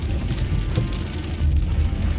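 Steady rain drums loudly and continuously on a surface nearby, a dense close patter with a few heavier low thumps and no voices.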